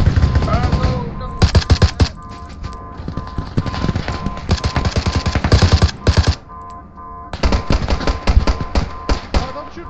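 Rapid bursts of automatic gunfire from Arma 3 crackle loud and close, broken by short pauses, with a voice shouting over the shooting.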